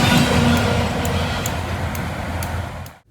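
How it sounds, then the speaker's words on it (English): The tail of an intermodal freight train rolling past, steady rumble and wheel noise close by that fades out at the end, with faint rhythmic clicks of wheels over rail joints. "the head end of this intermodal powered by GE junk cleared, and I got a clip of the end of it passing by"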